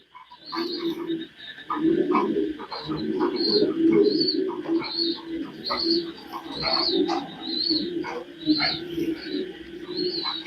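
Loft pigeons coo repeatedly in low, throaty bursts, several birds overlapping close by, with sharper high chirps and calls scattered through the steady, moderately loud chorus.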